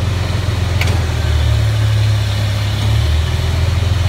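A loud, steady manure spreader engine idling up close, with a continuous low rumble that holds even throughout and no voices.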